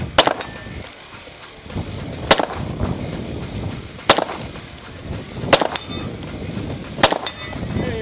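Handgun shots at an outdoor range, including shots fired from 50 yards: five sharp, loud reports spaced a second or two apart, each with a metallic ring and echo over a steady background hiss.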